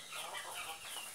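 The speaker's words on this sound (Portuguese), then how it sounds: "Aqui é uma galinha gigante." A large hen clucks softly and continuously at close range while being held, a faint scratchy farmyard sound with a slightly louder burst at the end.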